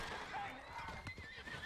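A horse in the video game Red Dead Online gives a loud, close whinny over hoof clip-clops, with faint talk mixed in during the brief moment.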